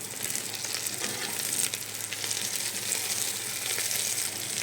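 Onion and green chilli fry in a pan for veg rice, giving a steady, dense sizzle that holds at an even level throughout with no voices.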